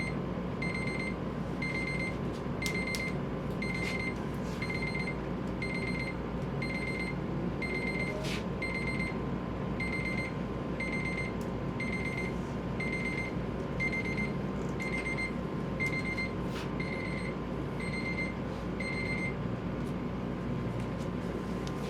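A timer alarm in an embryo transfer lab sounds a steady run of short, evenly spaced electronic beeps, roughly one per second, at moderate level over a constant equipment hum, then falls silent.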